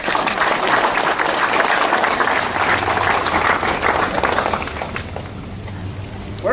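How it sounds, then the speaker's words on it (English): A crowd applauds steadily at a public celebration of the William Hogg Watt Memorial Fountain. The dense clapping stays even for about five seconds, then thins and fades. "Can we please give them a round of applause?"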